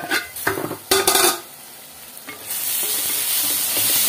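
Onions for an egg and potato curry fry in a pan with a few sharp scraping strokes of a spatula early on, then a steady, close, hissing sizzle takes over and continues.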